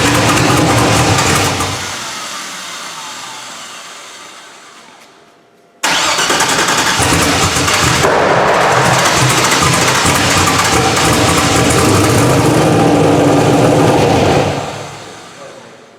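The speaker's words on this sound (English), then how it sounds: "It's because the pump's got air in it, and it's taking a second to get past that." A small engine's fuel pump running with air in it, cranking and labouring briefly before a cut, then a steady mid-pitched engine drone that holds loud for several seconds before fading out.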